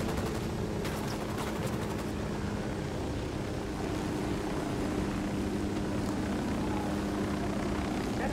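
An aircraft takes off in Ghost Recon Wildlands with a dense, continuous engine roar and a steady low drone. Sharp crackles sit in the first seconds, and the noise is loud and unbroken throughout.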